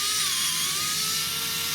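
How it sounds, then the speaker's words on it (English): A small electric driver unscrews 6-point T8 Torx screws from a GHD Platinum Plus S8T262 hair straightener, giving a loud, close, continuous high whine that wavers slightly in pitch throughout. "So 6-point T8 Torx, just loosen the screws"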